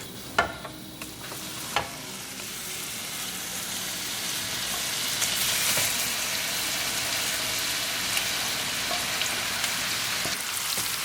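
Cumin seeds sizzle steadily in hot oil, a dense frying hiss that swells slightly midway, with a few sharp clicks of a utensil stirring near the start.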